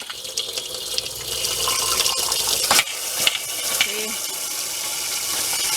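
An RV water tap runs steadily while pink antifreeze is flushed through the water lines during winterizing, a continuous close splashing flow with a few sputters from air in the lines.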